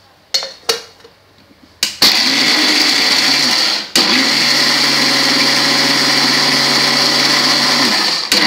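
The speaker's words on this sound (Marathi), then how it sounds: "हे आपण सगळं मिक्सरमध्ये टाकून घेतलेलं आहे। त्यात आपण सगळं बारीक करून घेणार आहोत।" An electric mixer grinder runs loud and steady while grinding ingredients, starting with a few short bursts, then a sustained whir cut by one brief pause near the middle, with no voices.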